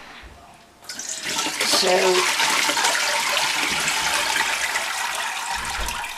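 Cold water pours steadily into a rhubarb wine mixture, a continuous splashing rush that begins after a brief quiet start and runs to the end, with a single short spoken word near the start.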